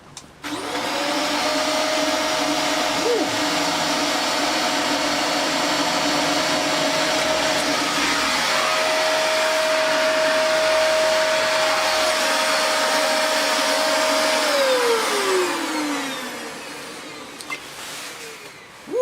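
A Dyson DC24i upright vacuum's main motor runs loud and steady for about fifteen seconds after switching on, with a rising whine at start-up and a falling pitch as it winds down at the end.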